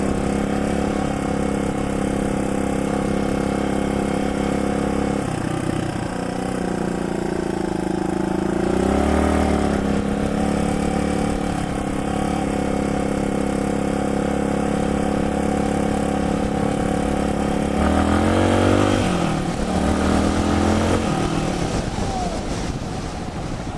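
A 2015 Suzuki DR200 dirt bike rides through wooded rolling hills with loose sand, its single engine droning steadily up close with wind noise, pitch rising and falling through a few throttle changes.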